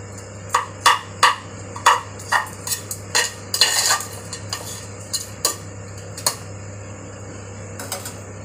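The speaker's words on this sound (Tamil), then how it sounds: "இந்த மாதிரி கரண்டிலேயே வந்து மிக்ஸ் பண்ணிடலாம்." Jeera rice with ghee and cashews mixed by ladle in a pot, a series of distinct scraping and clinking strokes, strong at first then fading to lighter taps, close and alone over a low hum.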